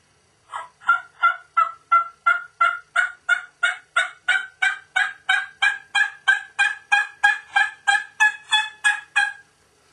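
A wild turkey hen gives a long assembly yelp, a series of about twenty loud, evenly spaced yelps, rising in intensity, clear and close with no other sound.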